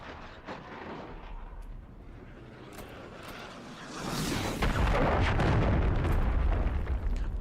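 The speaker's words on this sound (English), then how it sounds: "A double with the airstrike from Tickle Monster as well." An airstrike in a video game lands partway through as a sudden surge of heavy, continuous explosions and rumbling blasts, following quieter background pops and distant gunfire.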